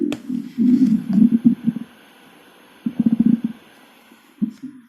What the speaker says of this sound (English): That's his belly rumbling.